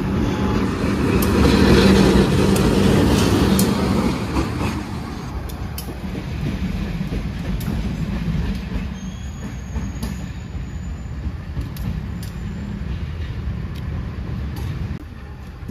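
A CC 201 diesel locomotive in red and blue livery rolls along the rails with a steady, loud rumble that eases after a few seconds, joined by faint wheel squeals.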